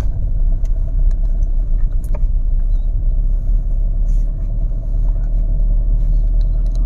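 A Fiat Linea 1.3 Multijet with an automatic gearbox pulls away and drives on at dusk, heard from inside the cabin as a steady, loud low engine and road rumble with faint small rattles.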